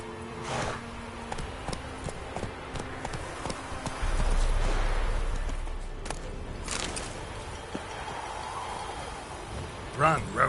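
Roach the horse gallops in The Witcher 3: Blood and Wine, with steady hoofbeats running beneath game sounds and voices, swelling midway and ending in a louder burst.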